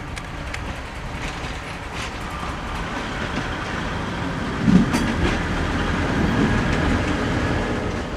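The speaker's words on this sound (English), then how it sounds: "we watch as the diesel heads back with the last train of the day" A diesel train on a narrow gauge railway near Rhydyronen in Wales passes steadily, a loud continuous engine rumble with wheel clatter and rail noise holding throughout.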